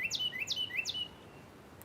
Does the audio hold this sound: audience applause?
no